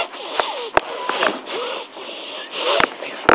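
A voice imitates heavy, snore-like breathing, with rough wheezing and snorting breaths in uneven bursts and a few sharp clicks, close and fairly loud.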